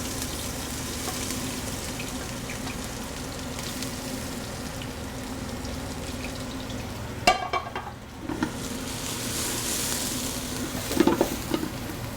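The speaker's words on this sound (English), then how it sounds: "Just going to add a bit more oil to the large pan." Vegetables fry in oil in a large pan for a Trinidad callaloo, giving a steady close sizzle throughout, with a sharp clatter of stirring near the middle and a few small pops toward the end.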